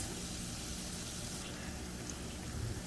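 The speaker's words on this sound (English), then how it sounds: "they are back to sizzling" Chicken strips and party wings fry in oil, a dense, quiet, constant sizzle and bubbling hiss heard close up with nothing else over it.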